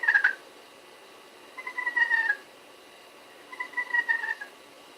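Three short, trilling squeaks from a friction turkey call played as a purr with a wood striker, spaced a second or two apart, faint and alone over quiet background.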